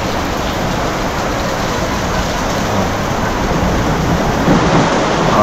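Heavy rain pours steadily in a constant roaring hiss, unbroken throughout, with a faint low rumble underneath.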